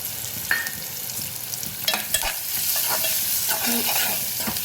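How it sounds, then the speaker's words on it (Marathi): Red chili powder, turmeric and garam masala sizzle as they are stirred and sautéed in a pan, with a steady frying hiss close by and a few scraping spoon clinks. "हे सगळे मसाले चांगले परतून घ्यायचे"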